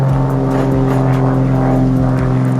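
A propeller airplane passes overhead, making a loud, steady droning roar that holds evenly without a break near a garage where a BMW M4 exhaust install is underway.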